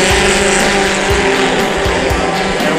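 Monster Minis race cars roaring away at the green flag of a heat race at Unity, several engines revving hard and loud together with some tire noise, steady throughout the short burst.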